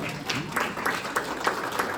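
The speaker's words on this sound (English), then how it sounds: "let's clap for him" Small classroom group clapping for a student at a school in Kenya, a short, light patter of hands with a few distinct claps over background murmur.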